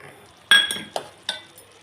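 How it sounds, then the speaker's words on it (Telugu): Sugar syrup for rava laddu stirred in a pan, heard as a few distinct spoon scrapes and clinks against the vessel, close and fairly loud, with quiet pauses between them and no talking. "ఇలా మరుగుతూ ఉంటుందండి మరుగుతూ ఉంటుంది కలుపుతూ ఉండాలి"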